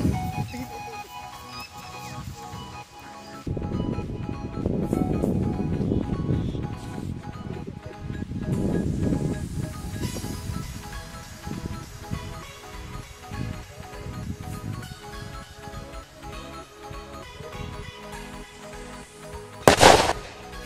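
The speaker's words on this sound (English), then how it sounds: "Wow, just like a rocket launch." Sodium dropped onto ice erupts in a loud roaring blast with flames and smoke, a sustained rumbling burst through the middle followed by a sharp bang near the end.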